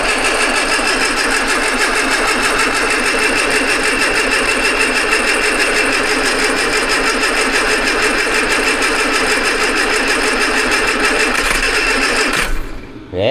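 An Austin Allegro car engine with a rebuilt carburettor runs loud and close at a steady, busy idle for about twelve seconds, then cuts off abruptly near the end.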